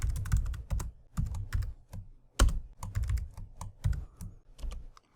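Close keystrokes clatter on a computer keyboard in quick bursts of typing separated by short pauses, with one sharper key strike midway.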